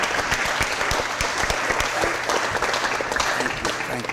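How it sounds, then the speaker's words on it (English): A big round of applause from an audience at a Board of Aldermen meeting, dense steady clapping at close range that holds evenly throughout with no break. "Let's give them one more big round of applause."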